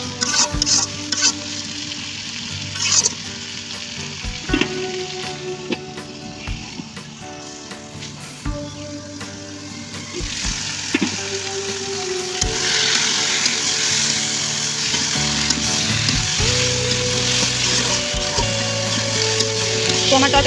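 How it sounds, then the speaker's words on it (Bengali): Pumpkin curry frying and being stirred in a pan, a steady sizzle with repeated scraping and knocking of the spoon against the pan, close and continuous throughout. "তো আমার তরকারিটি ভালোভাবে কষানো হয়ে গেছে"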